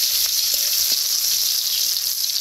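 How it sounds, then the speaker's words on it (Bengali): Chopped onions fry in hot oil with a loud, dense, continuous sizzle and faint stirring ticks, close up and without talk, while jackfruit curry is cooked in a village kitchen. "তেলটা গরম হয়ে গেছে, পেঁয়াজ কুচিগুলো দিয়ে দিচ্ছি।"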